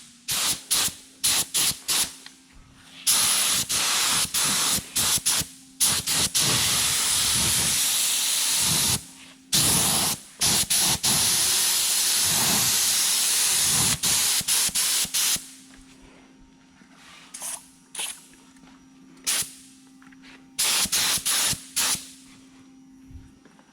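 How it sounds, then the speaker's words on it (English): A cheap spray gun sprays paint onto a 2017 Toyota Tacoma in loud, hissing bursts of varying length, broken up by short stops and a steady low hum underneath. "Spraying a little bit out of the ordinary, but it is a cheap gun"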